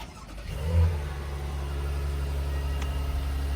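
A 2025 Honda Pilot Touring, started by remote, turns over and catches, rising briefly before settling into a steady low idle hum, heard nearby without talk.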